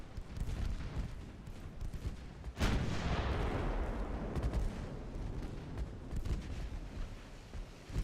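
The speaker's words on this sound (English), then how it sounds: "Let's turn all the secondaries on the battleship." Battleship secondary guns firing in a naval video game, a sudden loud blast followed by a long rumbling roar and continuing muffled booms and rattles.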